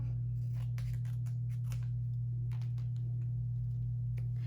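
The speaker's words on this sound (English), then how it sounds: "You might need scissors for this." Scissors snip through stickers during a pipe-cleaner craft, giving a handful of quick, crisp cuts in loose clusters over a steady low electrical hum, with no talk.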